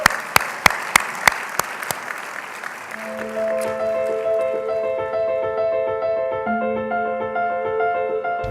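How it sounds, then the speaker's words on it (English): A banquet audience of several hundred at a student-athlete awards night applauds: a few sharp, evenly spaced claps lead into a broad, sustained wash of clapping while sustained musical tones rise underneath. "would you just please look around this room and give yourselves a round of applause?"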